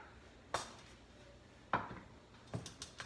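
A spoon knocks against a bowl while mixing homemade tuna salad with vegetables and mayonnaise: three or four sharp, faint clinks spaced apart over soft, quiet background.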